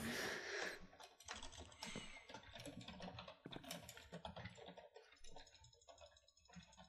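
Rapid, fairly close clicking of computer keyboard keys in an office-style setting, irregular bursts of keystrokes with no talking, fairly quiet overall.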